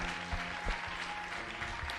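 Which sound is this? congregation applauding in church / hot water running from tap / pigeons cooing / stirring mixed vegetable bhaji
congregation applauding in church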